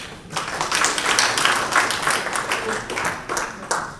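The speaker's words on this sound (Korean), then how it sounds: "큰 박수로 환영해 주시기 바랍니다" Audience clapping at a Korean flexible-packaging printing seminar as a speaker on doctor blade technology is welcomed, a burst of applause that swells, holds, then tapers with scattered final claps.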